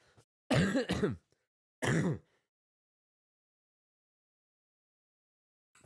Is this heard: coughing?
yes